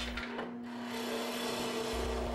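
A spindle gouge taking light truing cuts on a turned wooden box spinning on a woodturning lathe, giving a steady close rubbing, rasping hiss over a constant motor hum, no talking.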